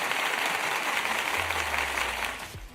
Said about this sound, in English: Get you your round of applause for the super chat